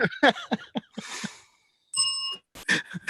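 Bell ringing: a short bright ding stands out between bursts of speech, clear but brief, with a sigh-like breathy sound nearby.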